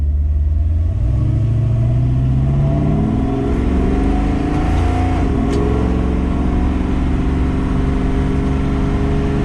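Fully built 1957 Chevrolet Bel Air on the road, its engine loud and close as it revs up through rising pitch sweeps, dips, then climbs again under a deep continuous rumble.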